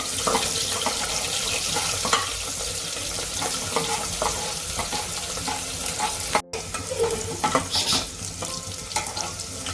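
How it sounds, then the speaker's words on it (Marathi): Bay leaf and onion sizzling in hot oil for a spiced lima bean rice dish, a dense loud continuous crackle up close with scattered sharp pops and stirring clatter, with no talking throughout. "आता मी हे तमालपत्र टाकते कांदा टाकते"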